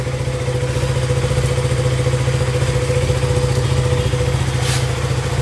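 A KTM Duke 200 motorcycle engine idles close by with a steady, rapid mechanical pulse and a light clattery edge, holding an even level throughout.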